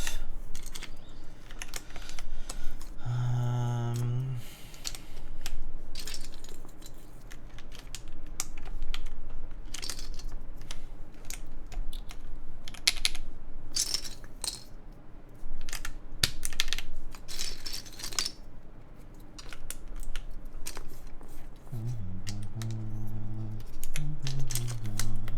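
An ASUS ROG Azoth+ mechanical keyboard being typed on, with bursts of crisp, clacky keystrokes in uneven clusters, close up and moderately loud, with a couple of brief tonal beeps at the start and near the end.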